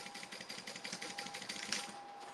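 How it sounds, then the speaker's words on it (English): Sewing machine top stitching along a fabric tote bag, a steady rapid whirring stitch rhythm running throughout, moderately quiet and heard alone. "I'm just top stitching so that it's going to be like a peak."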